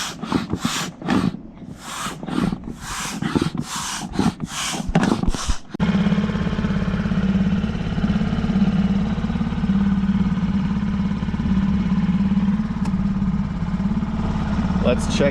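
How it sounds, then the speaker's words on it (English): Rhythmic whooshing strokes of a pump inflating a dinghy come first, then a steady droning motor hum takes over and runs continuously at close range, in a Honolulu harbor. "All right, I'm blowing up my dinghy."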